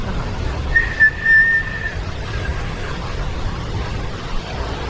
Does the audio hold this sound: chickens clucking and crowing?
no